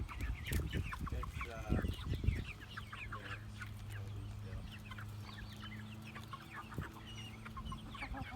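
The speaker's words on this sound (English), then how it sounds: "Chicken frenzy." Backyard chickens in a run cluck and squabble in a frenzy over kitchen scraps, with a burst of loud, overlapping clucks and scuffling up close at first, then quieter scattered clucks over a low hum.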